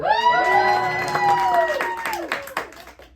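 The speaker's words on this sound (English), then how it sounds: "So, round of applause, we should use Roby's 100" A magic show audience claps and cheers as a vote, with a loud sustained shout or whoop over scattered clapping that thins out toward the end.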